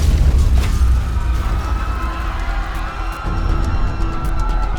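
A building explodes on a city street in Paris, giving a loud, sustained roar of broadband rumble and crackling debris. Scattered sharp pops sound through the noise as it stays heavy throughout.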